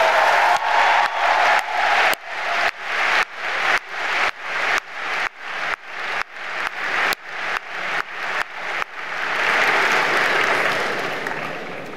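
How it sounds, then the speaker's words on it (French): A crowd at a medical graduation ceremony applauds, first in regular, rhythmic pulses of clapping that each fade, then in a fuller, sustained burst of applause that gradually dies down. "vous allez malgré tout pouvoir l'applaudir"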